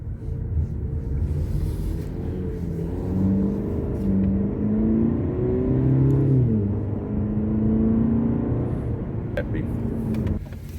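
A 2021 Cadillac CT4 with an 8-speed automatic pulls away and drives on, a steady low engine rumble and whir heard from inside the cabin, rising gently as it accelerates.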